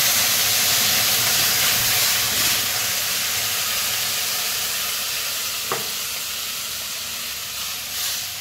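Watery mustard paste is poured into a hot pan holding fried fish and potatoes for a thin sour mango curry, giving a loud steady hiss and sizzle that gradually eases, with one sharp clink midway.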